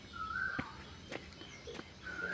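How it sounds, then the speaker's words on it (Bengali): Birds call from the forest canopy near Khoiyachora waterfall in Mirsarai, Chattogram, giving a few clear, moderately near whistled notes with a soft rustle of footsteps beneath. "আর উপরে পাখিদের ডাক।"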